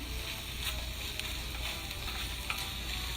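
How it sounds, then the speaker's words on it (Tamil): Vegetables sautéing in a pan while being stirred, heard as a steady, dense sizzle and frying hiss with faint scraping throughout, close and continuous with no talking. "ஒரு கிண்டிட்டு ஒரு 2 நிமிஷம் வதக்குங்க."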